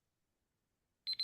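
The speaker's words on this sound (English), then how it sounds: "For +5, -5, anybody else? On the buzzer is Abhinav." A quiz buzzer goes off at a 2024 quiz round in New Delhi, two sharp electronic beeps that follow right after each other at the end, loud and clear after near silence.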